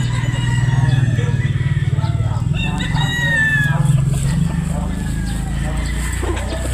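Pure Boston Roundhead gamecock at a game farm crowing: a loud, harsh crow rises near the middle over a steady low rumbling hum, with other fowl faintly around.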